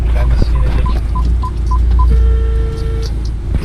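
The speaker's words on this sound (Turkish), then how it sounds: "Ben de Ünal abi arayayım" A phone call is placed from inside a car, with a series of evenly spaced dialing tones followed by a long ringback tone over a loud engine and road rumble.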